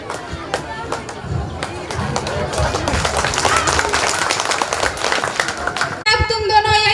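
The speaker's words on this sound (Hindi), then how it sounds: "बच्चे को ताली।" An audience claps for a child during a stage play about dowry, a dense, lively round of applause building for several seconds amid crowd noise before music cuts in.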